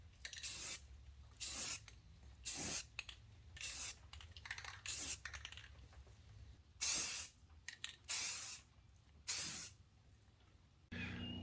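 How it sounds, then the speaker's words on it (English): Short bursts of aerosol spray lay a light mist of guide coat over a dented car body panel, about eight close hissing passes separated by brief quiet gaps. "This is called guide coat. You spray a light mist and then sand it all off"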